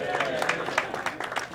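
A live audience at a debate on socialism cheers and whoops together to vote to save a contestant, a dense, continuous crowd roar with scattered clapping and raised voices throughout.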